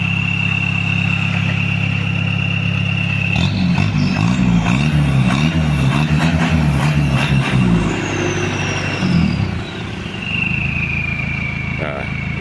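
Isuzu Panther turbo diesel heard from the rear, a steady high cricket-like turbo whistle over the engine, which revs midway, the whistle then sliding down; a person talks over it.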